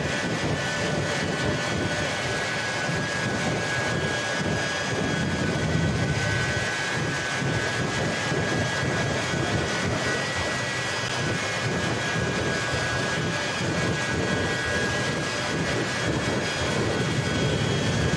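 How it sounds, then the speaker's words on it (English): A jet-powered 1957 Chevy at Cleetus's Christmas Tree Races roars steadily on afterburner, a loud, sustained jet-engine blast that fills the air without pause. "we'll feel the ground shake as he hits the afterburner each and every time"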